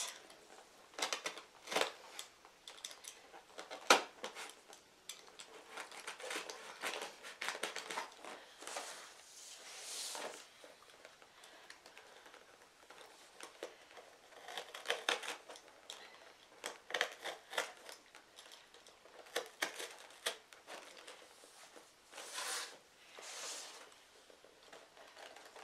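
Quiet, close cutting into a block for a St. Patrick's Day Dollar Tree floral project, heard as irregular scraping and snipping strokes in short clusters across the stretch, with no talking.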